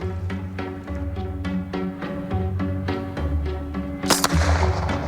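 Owen submachine gun, the Australian wartime weapon, firing on a range: a loud broadband blast near the four-second mark follows a steady low rumble and rhythmic tones, with no talk.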